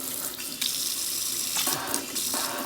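A newly installed Delta Ashton kitchen faucet runs water into the sink, a loud, steady splashing hiss whose tone shifts briefly as the spray changes, with no voices.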